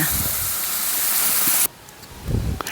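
Turmeric-spiced masala sizzles in a pan for a coconut-milk fish curry, a steady loud hiss that cuts off abruptly partway, leaving quieter kitchen clatter and brief low thumps.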